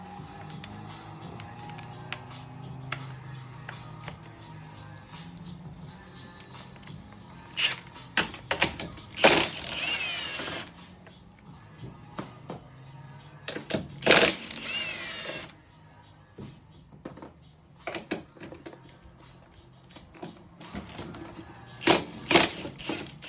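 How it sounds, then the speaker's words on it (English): Mechanical clicks and ratcheting bursts ring out from the removal of three 14 mm nuts at the top of a Lexus IS250 shock, with louder wrench rattles near 9, 14 and 22 seconds between quieter tool handling; no talking. "we're gonna go to the top of the shock and remove three bolts. I'm sorry, 3 nuts at the top to drop the shock"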